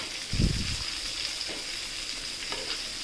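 Bangda mackerel fish frying in a pan, a continuous bright sizzle and crackle of hot oil with a low rumble of the fish being turned near the start, steady and close.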